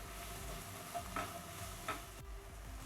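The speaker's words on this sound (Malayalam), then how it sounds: "ഇനി ഒന്ന് ഇളക്കി കൊടുക്കുക. ഒന്ന് ലൈറ്റ് ബ്രൗൺ നിറം ആവുന്നവരെ ഒന്ന് വഴറ്റി കൊടുക്കണം." Sliced onion sautéing with curry leaves in a pan for an egg pepper masala, a quiet sizzle with a few soft spoon scrapes as it is stirred.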